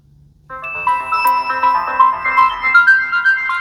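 A smartphone rings loudly after the find-my-phone function is triggered from a COROS Apex 2 Pro watch, playing a bright repeating melodic ringtone of short tonal notes.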